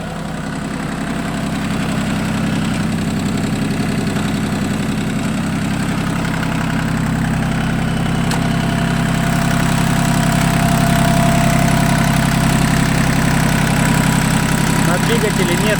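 A Yanmar F13D mini tractor's diesel engine idles steadily and evenly for a long stretch, a loud, close, continuous low rumble that holds a constant rhythm throughout.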